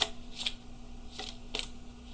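Tarot cards being shuffled by hand, a few brief riffling bursts separated by short quiet gaps, close and fairly soft.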